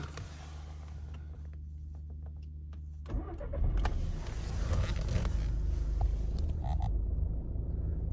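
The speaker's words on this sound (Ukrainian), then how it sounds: "Двигун працює чітко, не димить." A quiet idle hum, then the engine cranks and catches with a rumble, settling into a steady, smooth running drone nearby.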